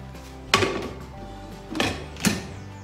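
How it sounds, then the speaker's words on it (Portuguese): Lid being fitted and clamped onto a metal pressure cooker holding beef tongue, three sharp metallic clanks with faint scraping between them, close up and without talk. "aí a gente vai tapar, tampar a panela de pressão"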